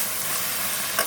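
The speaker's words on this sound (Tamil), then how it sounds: "இந்த எண்ணெய் காஞ்சிட்டுப்பா, இந்த வெங்காயத்தை நம்ம போட்டுக்குவோம்" Onions go into hot oil in a home kitchen while a chicken roll is being cooked, giving a steady broadband frying hiss with a brief louder sizzle burst near the end, close up and with no talk.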